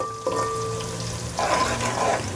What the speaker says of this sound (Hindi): देखिए प्याज थोड़ा सा फ्राई हो गया, थोड़ा गोल्डन गोल्डन